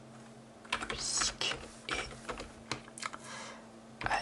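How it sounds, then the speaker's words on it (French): Keys clatter on a computer keyboard in irregular bursts of typing, close and crisp, with a faint steady hum beneath and a brief whispered word. "ça détend plus ça avec les bruits de clavier"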